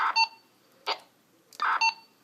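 Short electronic MDC-1200 data bursts sent as a pre-tone from a Motorola CP200 radio, a few rapid chirpy tone blips in quick succession, clear and moderately loud against near silence.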